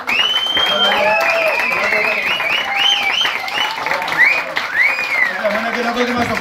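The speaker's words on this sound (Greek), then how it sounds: "Ένα χειροκρότημα στο κορίτσι μας." An audience applauds a young woman performer at a Greek live event, with dense continuous clapping heard beneath cheering and shouting voices at fairly close range.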